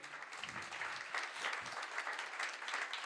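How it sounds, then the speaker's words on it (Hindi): Sustained audience applause fills the room continuously, a dense wash of many hands clapping at steady loudness throughout. "हम इनके लिए ज़ोरदार तालियां बजाएं"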